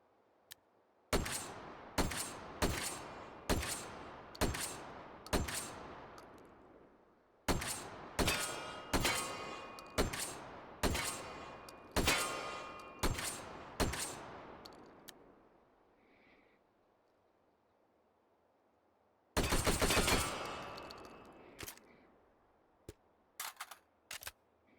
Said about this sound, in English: Yeah, the USAS 12 is actually a decent magazine-fed shotgun.